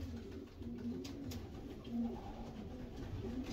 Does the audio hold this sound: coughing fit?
no